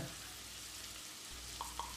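A steady, quiet sizzle of onions frying in a pan, with a couple of faint clinks near the end.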